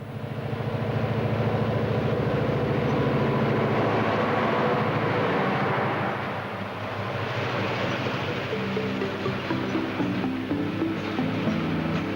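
A heavy narrow gauge freight train rumbles past at close range with a constant loud roar and rhythmic wheel clatter, easing slightly toward the end.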